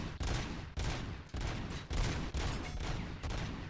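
Sustained automatic gunfire in the video game RoboCop: Rogue City, with dense bursts of loud shots separated by brief pauses and almost no talk over them.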